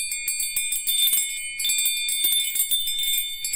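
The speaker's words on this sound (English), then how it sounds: "to actually move up to tingshas and then to the little bells" Small handheld bells ring in a sound healing treatment, a bright high jingling that is shaken from side to side in quick repeated bursts with a short pause midway, close and clear with no talking.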